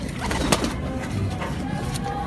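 A female pigeon, a Rajasthani kalmuha breed, coos softly and repeatedly at close range amid steady low background rumble.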